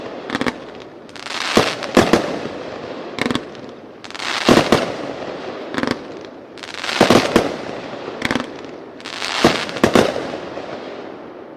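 A Backyard King consumer fireworks cake fires its 45 shots at a fireworks expo demo, loud crackling volleys arriving in repeated rhythmic bursts punctuated by sharp reports, with no voices.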